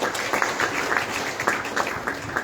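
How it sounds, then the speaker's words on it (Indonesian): Audience at a youth-themed political event in Indonesia applauding: a steady wash of many hands clapping with irregular louder claps, sustained for the whole stretch. "Tepuk tangan untuk seluruh spirit muda kita."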